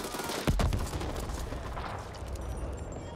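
A gunfight in the video game The Ascent, with a sharp heavy shot early on followed by a steady, busy wash of continuous gunfire and rumbling impacts at moderate distance.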